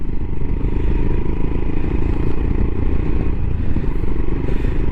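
A Royal Enfield Himalayan motorcycle on a road ride gives a loud, steady low exhaust rumble that stays close and even for five seconds, with no talking over it.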